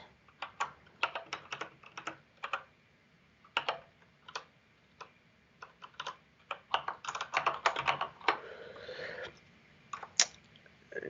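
Rapid, irregular keystrokes on a computer keyboard at a terminal during a Kubernetes backup demo, clicking in bursts with short pauses, close and fairly quiet, with no talking.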